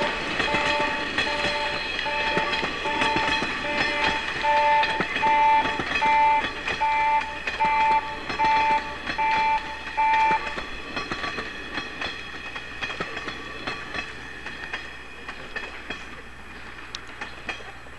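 A Japanese National Railways Series 50 passenger train rumbles past at Kanazawa Station in winter 1982, with clattering wheels on the rails, while a repeated horn-like tone pulses for several seconds, loud and close.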